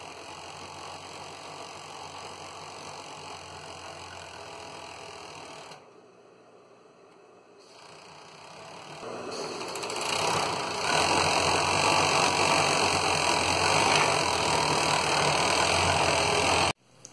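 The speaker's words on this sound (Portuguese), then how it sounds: "Agora eu vou lá overlockar e já volto aqui com vocês." An overlock serger runs along the fabric edge of a table runner with a fast mechanical whir. It drops to a short pause partway through, then restarts and grows louder and steadier until it stops abruptly.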